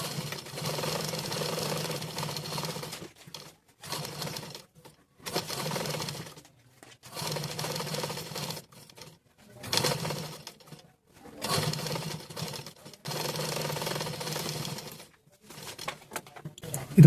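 A sewing machine stitches a patchwork blouse piece in repeated short bursts of rapid mechanical whirring, separated by brief quiet pauses, close and alone.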